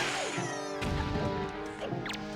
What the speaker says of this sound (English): it just makes that sound of shattering glass